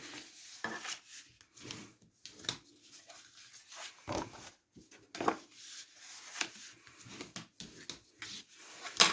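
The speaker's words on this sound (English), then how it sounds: "then we're gonna just fold and burnish" Cardstock being folded and a crease burnished flat on A4 sheets for a fold-flat box, giving soft, irregular rubbing and scraping strokes with small paper rustles and taps, close and fairly quiet, with no talking.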